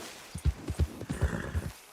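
A horse gallops in Red Dead Redemption 2 on PS5, its hooves thudding in a quick, steady clip-clop rhythm of about eight beats, close and clear with no voices.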